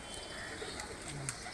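Domestic pigeons coo softly in a short, faint burst of low, murmuring calls, with a few brief chirps mixed in and no voices.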